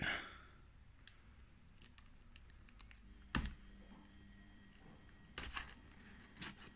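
Scissors cut open a Pokémon card display box from the Sun & Moon Remix Bout set, giving faint, scattered crisp snips and clicks at irregular intervals in an otherwise quiet room.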